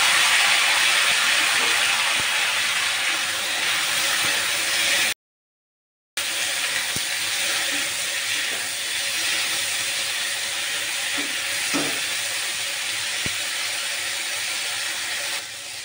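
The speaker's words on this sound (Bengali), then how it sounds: "এখন আমি এখানে বেগুন আর ডাঁটাটা যে কেটে রেখেছিলাম সেটাও ভেজে নেব" Brinjal and vegetable stalks frying in leftover oil in a wok, a loud continuous hissing sizzle with occasional small pops and clicks, steady throughout with one brief gap and no talking.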